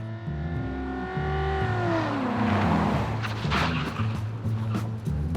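A state car works through a zigzag ambush-evasion test, its engine droning and revving loudly up close while the pitch swings up and down, ending in a rising roar with tire noise.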